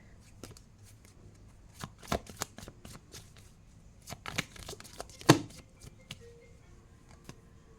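Tarot cards being shuffled by hand, a series of quick crisp riffling and slapping bursts, irregular and close, with quiet gaps between them and no talk.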